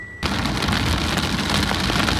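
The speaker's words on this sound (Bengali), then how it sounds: "ওরে বৃষ্টি অনেক অনেক অনেক বেড়ে গেছে এবার।" Heavy rain pours down on a tea garden in Sreemangal, starting abruptly after a brief quiet moment into a loud, dense, steady roar close by.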